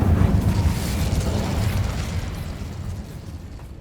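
A fire spell bursts in Hogwarts Legacy, a loud whooshing blast with a low rumbling boom that trails off and fades over a few seconds.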